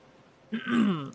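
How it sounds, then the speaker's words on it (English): One short, close cough with a throaty, throat-clearing rasp, heard alone during a casual gaming stream. "I need to cough, one sec."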